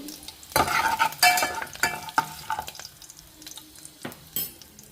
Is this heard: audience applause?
no